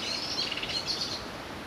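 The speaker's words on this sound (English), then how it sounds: "Sounds like a blackbird having a little swear at us, disturbing his peace." A blackbird calls on a walk near Watchet by the West Somerset Railway, a few thin, high chirps and sharp notes, faint and somewhat distant over steady background noise.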